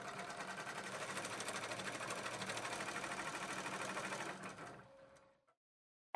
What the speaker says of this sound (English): Use the cutout to determine placement and begin stitching.